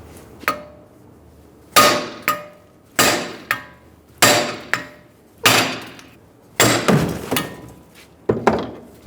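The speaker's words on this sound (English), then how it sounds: "use our second hammer and we're going to hit on the back of this one and we're going to drive the hub out" A hammer strikes the back of a 2007-2011 Toyota Camry front wheel hub to drive it out, delivering seven or eight loud, sharp metallic blows spaced a second or so apart, each ringing briefly before decaying.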